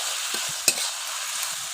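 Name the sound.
stirring bitter gourd with turmeric in a kadai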